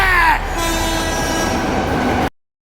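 A train travels in a Korean horror film, with sustained horn tones at the start giving way to a steady, close rolling rumble that cuts off abruptly.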